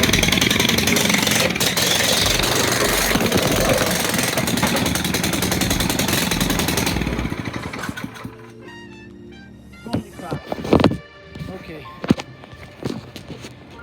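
The small engine of a Manco Dingo go-kart, a barn find under restoration, runs in a loud, rapid, rough chatter for several seconds and then cuts out, leaving scattered knocks, clunks and a few quiet voices.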